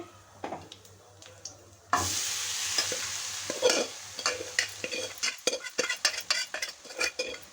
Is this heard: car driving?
no